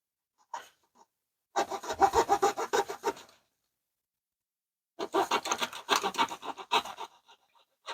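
Two bursts of rhythmic hand sawing through wood, close and clear, each a run of quick rasping strokes separated by a silent pause.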